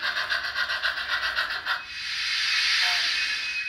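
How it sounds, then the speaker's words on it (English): A Hornby model steam locomotive with built-in sound plays a quick, even run of rhythmic chuffs, then shifts into a long, loud continuous steam hiss, close and with no talk. "I've got a steam loco, which is pre-programmed with sound and lights and various other things."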